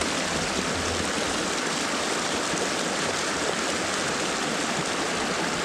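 A mountain creek in the Eastern Sierra backcountry near Big Pine Lakes rushes steadily, a dense, continuous broadband wash of flowing water with no pauses, close and fairly loud, with no voices.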